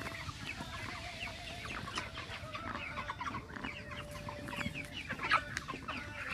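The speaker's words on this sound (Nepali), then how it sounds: "यस्तो हुन्छ खेरखेर रोग, सिआरडी भन्छ।" Broiler chickens sick with chronic respiratory disease (CRD) producing a constant chorus of soft clucks and rasping calls in a shed, with a faint steady hum beneath and one brief louder squawk near the end.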